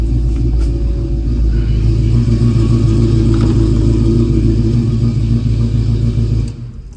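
A 1970 Ford Mustang coupe with a 347 engine idles with a deep, steady, loud rumble close by, then is switched off near the end and cuts to quiet.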